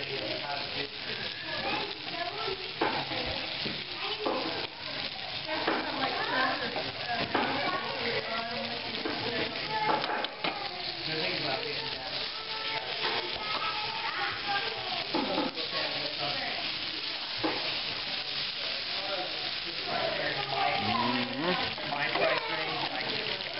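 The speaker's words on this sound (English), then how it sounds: "So cook the flour." Flour cooking in a pan for southern-style onion gravy to go with smothered pork chops: a steady, busy sizzle with stirring scrapes running throughout, and faint voices in the background.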